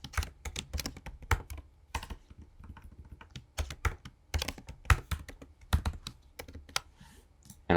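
Password being typed on a computer keyboard during website login setup: bursts of close, crisp key clicks in irregular clusters separated by brief quiet gaps.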